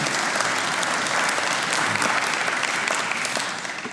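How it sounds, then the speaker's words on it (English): Steady, dense applause from a large crowd at a Financial Literacy Day event on Capitol Hill, loud and continuous throughout, tapering slightly at the very end. "So let's give them a round of applause."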